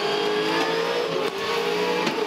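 A 2012 International Supercars V8 race car engine drones on partial throttle at the Adelaide 500 street race, loud and close, with a steady mid-pitched roar that briefly stumbles partway through as if missing, then carries on.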